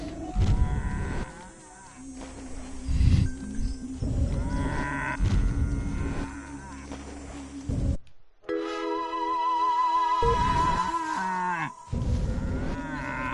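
A cow moos repeatedly in a video game, long low bellowing calls separated by short pauses, clear and fairly close, with no talk.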